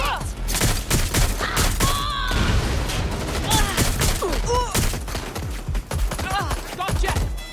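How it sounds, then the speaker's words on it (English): Dense, loud gunfire rattles almost without a break through a firefight in the video game Watch Dogs: Legion, with rapid automatic bursts and booming shots close by and voices mixed into the din. "Shots fired"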